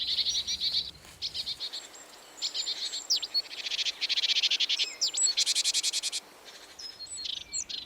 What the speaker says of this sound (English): Great tits often nest in wooden bird houses, and like most birds, they defend their young ferociously from possible predators,